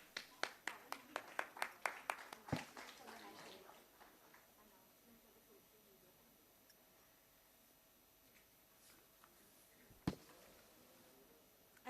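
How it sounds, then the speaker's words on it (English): A short burst of audience applause at a talk on asset allocation and alternative investment funds, made of a few crisp, fairly close hand claps that thin out quickly. Then comes a quiet stretch with one later isolated clap-like knock. "Let us welcome Mr. Brijesh on the stage with a big round of applause."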